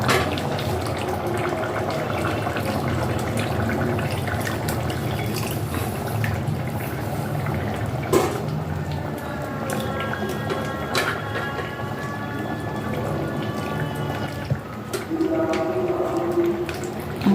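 Tamarind water poured into a cooking pot of curry leaves, black cumin and green chillies for a South Indian-style sour taro dish, giving a steady liquid pouring and trickling sound over a continuous low background.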